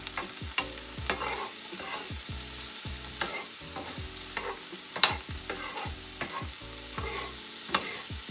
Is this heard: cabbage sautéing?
yes